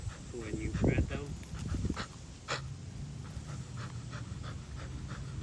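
A 17-month-old bulldog terrier pants rapidly and steadily up close after working, with a brief whimper and a few other dog noises near the start.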